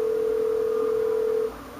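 Steady telephone dial tone in the Who Wants To Be A Millionaire Wii video game's phone-a-friend lifeline, a single continuous loud hum lasting about a second and a half before cutting off to quieter background.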